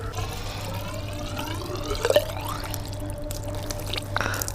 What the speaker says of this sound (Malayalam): ഞാനിപ്പോൾ ഇതിനകത്ത് നിന്ന് വെള്ളം കോരിയിട്ട് നമ്മുടെ ഓസ് നിറയ്ക്കാൻ പോവാം